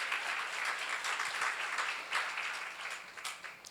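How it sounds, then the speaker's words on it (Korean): An audience at a church seminar sermon breaks into a short, fairly soft burst of clapping that swells and then tapers off, with no talking over it. "박수"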